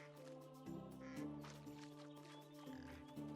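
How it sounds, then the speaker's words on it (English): A mallard duck quacks in the swampy wilderness of the game Medieval Dynasty, a few short nasal calls sitting faintly over a steady droning background. "This is a really good swamp, though, if you want birds. We could try to get this. It's mallard."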